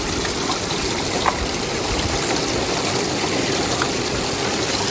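River water on the Yuba River runs and splashes steadily while gold-prospecting material is washed off by hand, a close, continuous rushing trickle with no talk.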